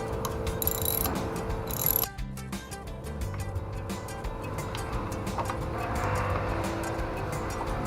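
A socket set ratchets on the kick start lever bolt of a 1973 Honda CL350, with a quick run of clicking pawl strokes and metallic handling noises close by, a sharper clack near the start, then a steady mechanical clatter.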